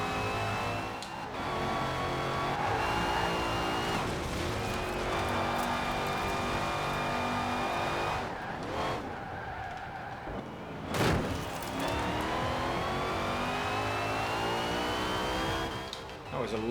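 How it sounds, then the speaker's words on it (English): Race car in a racing video game braking hard into a corner: sustained loud engine drone with shifting pitch, a sharp downshift and deceleration midway, then the engine climbing again, with a voice talking over it. "That was a lot of heavy braking there to be able to make that corner properly"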